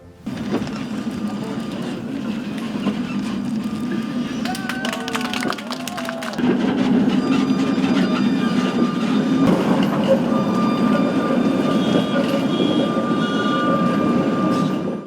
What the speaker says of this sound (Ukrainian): З 11-ї станції Люздорської дороги до житлового масиву Котовського в Одесі запустили подовжений трамвайний маршрут північ-південь